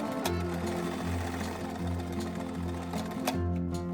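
A sewing machine backstitches the corners of a homemade fabric face mask, a steady close motor whir with rhythmic needle hum that stops and restarts in short bursts of stitching, with no voices.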